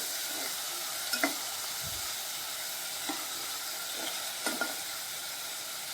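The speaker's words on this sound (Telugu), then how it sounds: "ఇప్పుడు ఇది కూడా ఒక 5 minutes ఫ్రై చేసుకోవాలి" Tomato and mixed vegetables sizzle steadily in a pan over a medium flame, a continuous bright hiss with a few soft stirring scrapes and clinks, close up and without speech.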